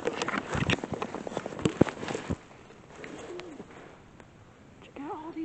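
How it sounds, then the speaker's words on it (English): Birds flutter and call nearby, with bursts of wing flaps early on, then soft cooing and a few chirps. "Check out all these birds"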